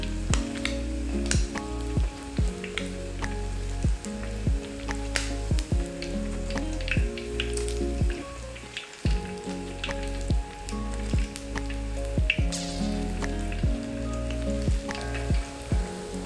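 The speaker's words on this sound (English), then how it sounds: "Fry these for about 5 minutes until they turn nice and golden brown and the filling is cooked all the way through." Filled dumplings fry in oil with a dense, continuous close sizzle, dotted with frequent sharp pops and crackles, and no voices.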